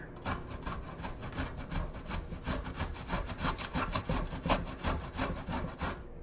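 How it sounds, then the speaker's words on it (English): Fresh ginger scraped back and forth on a kitchen grater, a steady run of close, raspy strokes with no talking over it. "And then just go ahead and grate it."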